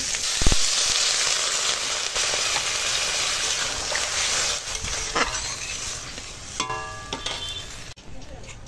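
Vegetables, bitter gourd with dried lentil dumplings, fry in a pan with a steady, close hiss and sizzle, broken by a few sharp clinks and stirring scrapes near the end.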